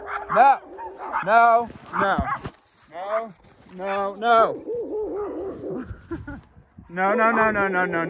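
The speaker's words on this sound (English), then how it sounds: "that guy didn't start barking until he was at the road" Several dogs, including a chihuahua, bark close by along the Florida Trail. The loud, harmonic barks come in uneven bursts, then a sustained run of barking at the end.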